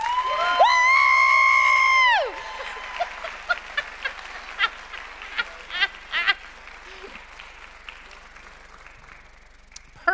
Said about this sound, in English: Let's just start clapping really loud when she walks in.